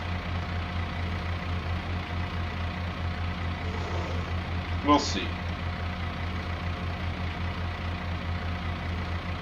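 A New Holland Super Steer 70 Series tractor idles in Farming Simulator 22, a steady low engine drone that runs throughout with a brief spoken remark over it.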